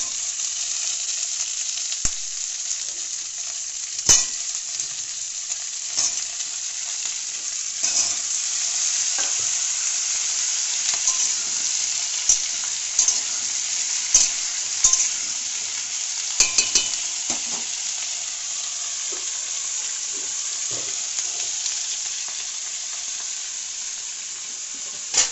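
Food fries in a pan with a constant bright sizzle, broken by sharp scrapes and taps of a spatula stirring, steady and close with no talking.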